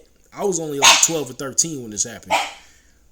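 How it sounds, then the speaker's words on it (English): A pet dog barks indoors in the background, with several sharp barks coming through under someone talking loudly nearby. "That's my dog just barking."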